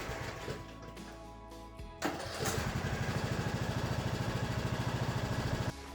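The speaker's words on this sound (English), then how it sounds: "So I tossed it in the mower to try it out, and wouldn't you know it, the mower started right up." A lawn mower engine, powered by a revived dead battery, cranks and catches, then settles into a loud, steady, rhythmic running chug close by.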